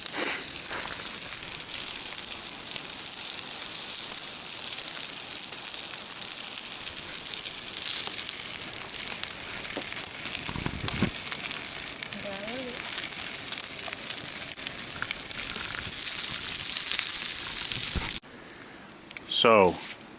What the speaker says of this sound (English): Bacon and hash browns on the frying pan and a pot of water boiling for the